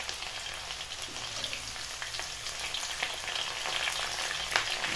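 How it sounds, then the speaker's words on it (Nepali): Garlic fries for tomato achar with a soft, crackly sizzle like light rain, lightly stirred with occasional faint scrapes, steady and fairly quiet. "त्यसपछि लसुनलाई पनि राखिदिएँ। र यसरी राखिसकेपछि यसलाई हल्का चलाइदिने।"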